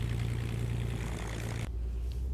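A Carbon Cub EX propeller plane in the X-Plane 11 flight simulator drones loudly and steadily at departure power, then the engine note drops abruptly to a lower idle hum.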